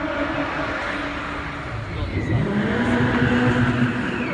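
Sports cars, a British Super Lightweight, a Zenos and a Caterham, rev their engines to warm up before a race in a stadium, a loud, continuous engine roar rising in pitch, with voices talking over it.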